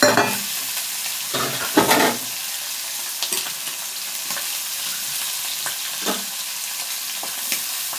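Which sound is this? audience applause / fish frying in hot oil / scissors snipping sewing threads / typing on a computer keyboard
fish frying in hot oil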